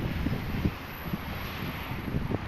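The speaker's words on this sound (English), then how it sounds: "God damn it, it's so windy." Strong wind buffets the microphone in a steady low rumble, with a few louder gusts thumping through; no one speaks.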